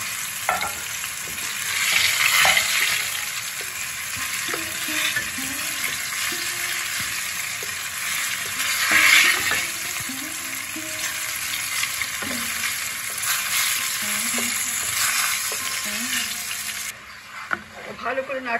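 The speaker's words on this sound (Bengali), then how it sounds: "ভালো করে নাড়তে হবে, কাজু বাদাম আছে তাহলে লেগে যাবে।" Cashews fry in oil in a pan during a Bengali doi begun recipe, giving a continuous loud sizzle with repeated scraping stirs of a spatula over roughly twenty seconds.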